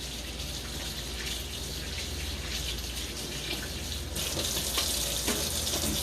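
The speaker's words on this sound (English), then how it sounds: "I'm going to wash my hands" Tap water runs steadily into a kitchen sink for hand washing, a constant close rushing splash throughout with slightly brighter spatter near the end.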